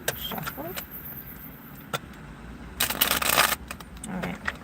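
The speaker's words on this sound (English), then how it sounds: "One more shuffle." A deck of tarot cards gets a quick shuffle, a crisp papery riffle burst up close amid quiet surroundings, with a soft voice nearby.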